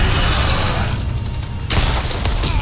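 Loud, rumbling gunfire and blasts in the horror game Until Dawn, with a sustained booming wash that dips briefly before a sharp new burst of shots hits near the end.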